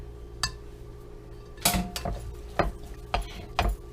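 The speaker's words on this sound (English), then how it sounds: "So I'm going to stir this up real quick." Basil and spinach being stirred in a pot with a metal utensil, giving several distinct clinks and scrapes spaced irregularly over a few seconds, close and fairly clear against a low kitchen background.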